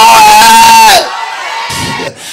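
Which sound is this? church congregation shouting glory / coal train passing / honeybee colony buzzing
church congregation shouting glory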